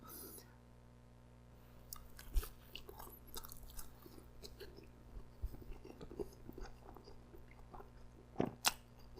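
Close, quiet chewing of Pizza Hut Detroit-style pizza with a soft-bottomed crust and plenty of sauce, soft wet mouth sounds with occasional sharper clicks and crunches spread irregularly over several seconds.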